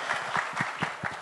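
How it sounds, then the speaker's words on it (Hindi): An audience claps at a Bollywood film trailer launch in a short burst of scattered, moderately distant applause with uneven hand claps, heard without speech. "एक बार जोरदार ताली होनी चाहिए"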